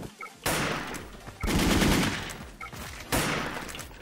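Gunfire from a gun in the Wolfteam shooter game, three sharp bursts of rapid shots separated by brief pauses, fairly quiet and with no talk over it.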